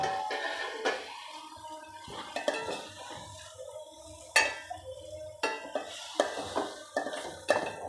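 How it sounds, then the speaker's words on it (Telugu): A spoon stirring chili powder through dried fish in a pan for a Nellore-style fish curry, with soft sizzling under irregular sharp clinks and scrapes against the metal, close and moderately loud, no talking. "ఇప్పుడు ఇవన్నీ కలిపేసేసేయడం. రెండు ఒకేసారి."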